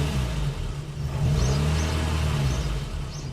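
A Mk1 Golf GTI with standard exhaust and air intake gives a quick throttle blip from idle: a steady, close engine drone swells briefly in a short rev, then settles back to a low hum.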